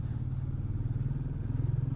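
A Royal Enfield Meteor 350 with a 349cc single-cylinder, air-cooled, fuel-injected engine gives a steady, bassy, thumping rumble that runs the whole time, heard faintly at a distance with no talk over it.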